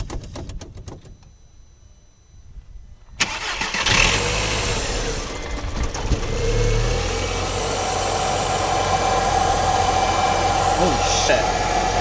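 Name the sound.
modified Audi TT engine idling during sound check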